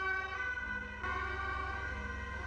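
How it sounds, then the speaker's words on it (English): An ambulance siren wails steadily on a noisy street outside, faint and distant under constant background hum, with no talking. "why are there ambulances here?"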